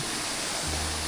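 Continuous broadband rush of a river flowing nearby, steady and even with no breaks or voices.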